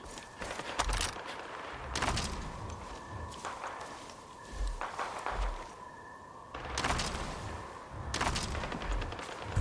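Gunfire in the video game Far Cry 5, several bursts of broadband shots spread across the clip, each with a sharp onset and a decaying tail, moderately loud against steady background game ambience.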